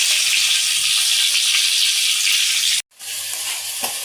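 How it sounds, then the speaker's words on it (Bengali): Tilapia fish frying in hot oil, a steady close bright sizzle that cuts out briefly, then resumes slightly softer with faint clinks. "আর এইদিকে যে আমি মাছ ভাজি করছি, তেলাপিয়া মাছ রান্না করব।"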